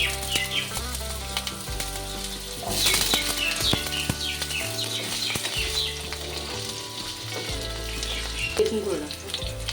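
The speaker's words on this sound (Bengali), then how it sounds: "আলুগুলো হালকা ফ্রাই হয়ে গেছে" Potato pieces fry in hot oil with nigella seeds and slit green chilies, giving a steady close sizzle and crackle that swells midway, with faint stirring scrapes.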